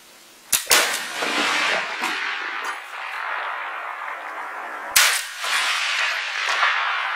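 Gunshots fired at a buck during a deer hunt outdoors, two sharp close reports near the start and another a few seconds later, each trailing off into rustling background noise.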